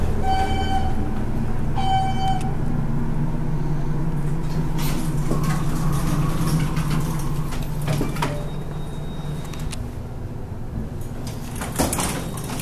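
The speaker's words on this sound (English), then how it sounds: "Elevators, the high-rise ones at the Wyndham New Yorker Hotel." High-speed elevator at the Wyndham New Yorker Hotel in New York running, a steady low mechanical rumble and whir with a brief chime at the start, door and cabin clunks partway through, and the drone gradually easing toward the end.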